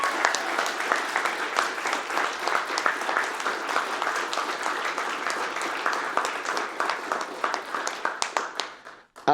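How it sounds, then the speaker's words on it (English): A large convention audience at a video game charity speedrun marathon finale gives the cleaning staff a long round of sustained clapping and cheering, steady and loud, tapering off near the end. "So can we please get a round of applause for them?"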